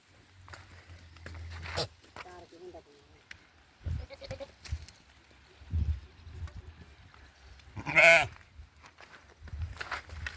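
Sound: sheep and goats bleating by a river

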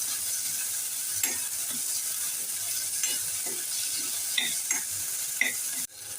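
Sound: sautéing frozen peas with vegetables in a pan

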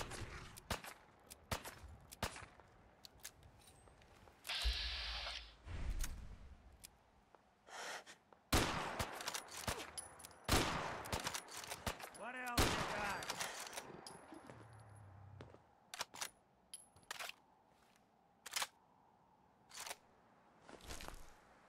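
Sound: gunfire from a gun in the video game Fallout 4

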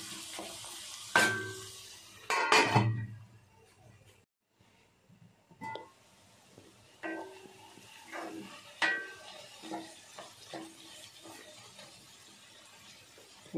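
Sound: stirring and sautéing bitter gourd thokku with powdered jaggery

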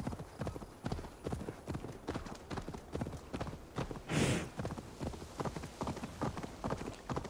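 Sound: horse hooves while riding in Assassin's Creed Valhalla video game

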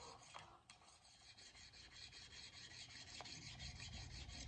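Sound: hoof knife being sharpened on a diamond hone

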